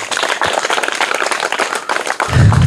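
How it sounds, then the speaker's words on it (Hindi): A crowd claps for the second-place winner of a children's quiz, with steady, dense applause filling the whole moment and a low thump near the end. "इनके लिए भी जोरदार तालियां।"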